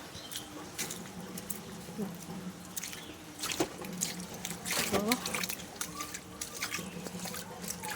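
Water splashes and trickles as someone moves through flood water on a waterlogged street, with steady sloshing and dripping throughout under occasional speech.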